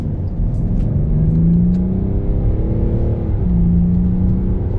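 A Mercedes S-Class luxury saloon accelerates, its engine heard from the cabin as a steady low drone that rises in pitch and holds over several seconds, with road noise underneath.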